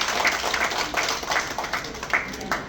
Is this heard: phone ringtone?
no